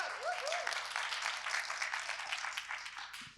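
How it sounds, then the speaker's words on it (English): An audience at a women-in-tech mastermind session claps together, a dense, even round of applause that holds steady for several seconds before tapering off, with a faint voice briefly audible at the start. "Yeah, applause"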